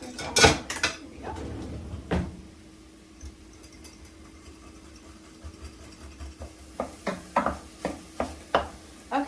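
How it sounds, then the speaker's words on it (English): A small whisk stirs a sauce with ground ginger in a bowl, making a run of quick, rhythmic clinks and scrapes toward the end after a few earlier knocks, with quiet room noise in between. "we want to stir that up. I have a little whisk here"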